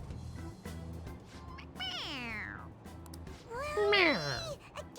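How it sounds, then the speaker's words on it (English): A squeezable toy cat from Persona 5 meows when pressed on the head. Two clear, high, sliding meows stand alone over a low game music loop, with the second louder and longer. "A toy. It meows when you press on its head."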